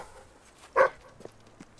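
A single sharp dog bark from the Fable 3 video game, short and fairly close, followed by a couple of faint soft taps in otherwise quiet surroundings.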